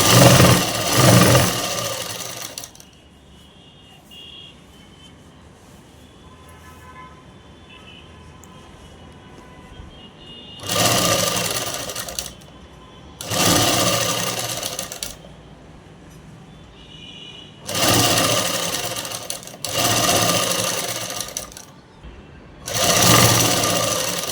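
A sewing machine stitches a round seam on a dress, in several loud bursts of a couple of seconds each, separated by quiet gaps with faint handling sounds.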